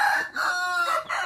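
A Tich Phat rooster of the hau bo type crows loud and close, a drawn-out call broken by a short pause before a second stretched phrase.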